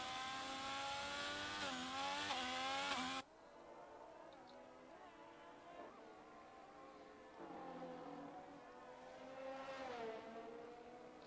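A race car engine in a racing video game on a Bahrain desert circuit revs in rising and falling harmonic sweeps, loud at first, then dropping to quieter fluctuating engine tones as it pulls away.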